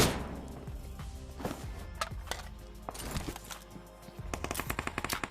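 Rapid bursts of automatic gunfire and single sharp shots from the mobile battle game BGMI, arriving in clustered volleys at moderate loudness with brief gaps between, and no talking over them.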